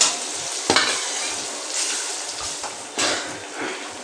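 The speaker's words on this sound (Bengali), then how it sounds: "সয়াবিনগুলো তেলে আবার ভেজে নেব" Soybean chunks fry in hot oil in a pan with a close, steady crackling sizzle, broken by a few sharp stirring clinks and scrapes of a spatula.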